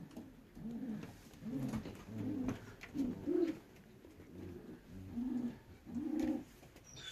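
Racing pigeons back at their loft after a 360 km race, soft repeated cooing in a steady rhythm of low throaty calls, close by with no talking.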